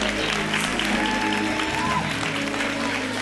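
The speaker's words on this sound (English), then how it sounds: "Give him a round of applause." Applause from a church congregation during a service, a steady wash of clapping that holds evenly for a few seconds at moderate level.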